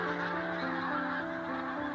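A large flock of migrating geese from Greenland honks over barley fields and wetlands at the Montrose Basin in Scotland in autumn, a dense continuous chorus of overlapping calls with no gaps.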